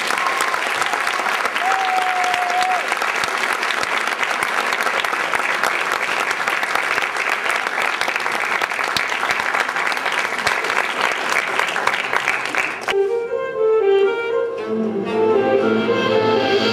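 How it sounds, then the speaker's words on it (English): Loud, sustained audience applause for graduating seniors at a school jazz concert, dense clapping filling the room for about thirteen seconds before it thins out and music-like tones take over. "How about a great round of applause for our seniors?"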